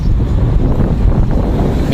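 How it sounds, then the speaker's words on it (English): Heavy wind buffets the microphone in a steady, loud low rumble with no other clear sounds. "Man, it's getting really windy now."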